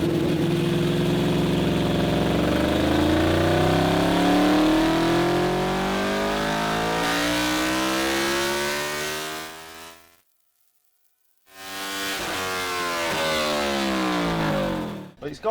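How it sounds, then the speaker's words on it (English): A Honda VFR800 motorcycle engine runs on a dyno, revving loudly with swelling, sweeping pitch, cutting off abruptly into near silence for about a second, then roaring back and climbing again before stopping. "Okay, so we've seen what the VFR can do on the dyno."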